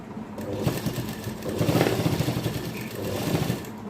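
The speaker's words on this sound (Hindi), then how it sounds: "यहाँ पर मैंने डबल सिलाई से इसे अटैच किया है।" A sewing machine runs steadily as it double-stitches kurti fabric, a close, fast mechanical whirring and clatter that speeds up and slows across the run, with no talk.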